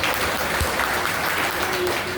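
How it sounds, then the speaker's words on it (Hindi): Loud audience applause at a nursing college event honouring a guest, a dense, even wash of clapping that fills the whole stretch without pause, with a faint voice briefly heard. "एक बार जोरदार तालियां हो जाए सर के लिए।"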